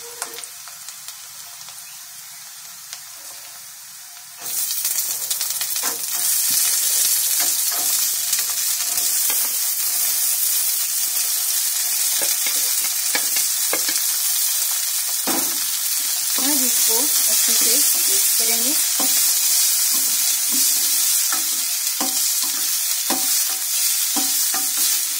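Cluster beans are stirred into frying onion and green chili in a hot pan, producing a loud, steady sizzle from about four seconds on, with scraping stirs throughout and no talking.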